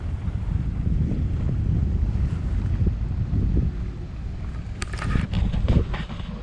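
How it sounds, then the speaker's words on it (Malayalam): Near a Qatar seashore, steady wind buffets the microphone over low, continuous water noise, and a few brighter splashes near the end suggest water lapping against the shore. No voices are heard. "ഇങ്ങനെ കളകള ശബ്ദം, പിന്നെ വെള്ളവും പിന്നെ ഫ്രെയിമും കാറ്റും."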